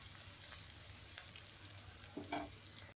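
Finely chopped ginger and garlic fry with onions in a pan for aloo palak, giving a steady, close sizzle and a brief scraping stir near the end, with no talking.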